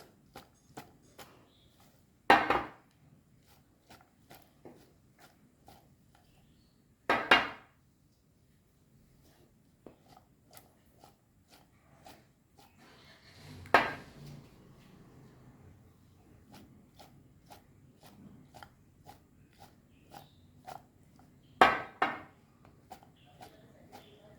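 A Greek salad being tossed in a bowl, with four separate sharp clattering bursts spaced several seconds apart and faint light ticks between them, close by and without talking.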